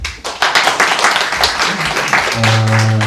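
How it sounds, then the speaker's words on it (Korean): Seminar audience gives brief applause for an introduced professor, scattered clapping building quickly then fading as a steady tone rises at the end. "박수 한번"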